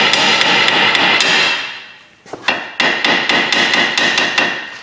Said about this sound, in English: Get a real hammer.